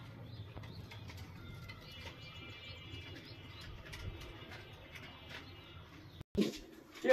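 Racing pigeons in a flying loft coo faintly in low, repeated murmurs, with a brief wing flutter or bump near the end.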